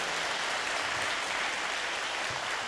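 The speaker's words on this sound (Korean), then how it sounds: "우리 부평필 하모닉 오케스트라에게 한 번 더 박수" Audience applause for the Bupyeong Philharmonic Orchestra at a youth concert after Beethoven's Fifth Symphony, a dense steady clapping from a large hall crowd.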